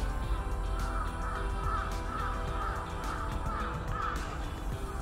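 Crows caw repeatedly near houses on a morning with cherry trees about to bloom. The rough calls repeat in a loose rhythm over a constant low rumble of background noise.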